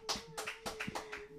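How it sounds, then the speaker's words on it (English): A small live audience at a jazz session claps for pianist Emmet Cohen, a handful of distinct, fairly quiet claps in loose rhythm over a steady electrical hum. "Give a round of applause for Emmet Cohen"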